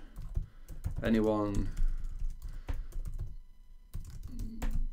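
Keystrokes on a computer keyboard while a message is typed, quick clicks in short bursts close by, with someone talking over much of it.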